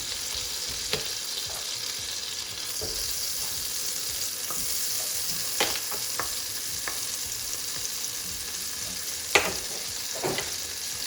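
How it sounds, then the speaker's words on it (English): Butter and oil sizzle in a frying pan for French toast, a steady close hiss with occasional sharp pops and light clicks from the pan. "I am going to add a little bit of butter, but I'm just going to quickly add some oil"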